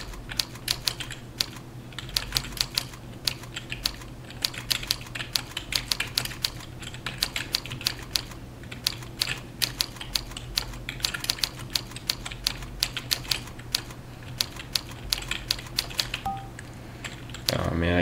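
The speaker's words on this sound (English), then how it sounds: "typing." Continuous rapid key clicks from a computer keyboard during touch-typing practice, close and steady for the whole stretch with irregular bursts of keystrokes over a low background hum.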